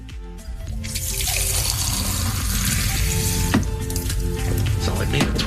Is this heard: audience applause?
no